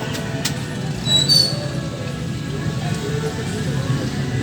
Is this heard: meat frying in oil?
no